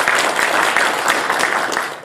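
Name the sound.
applause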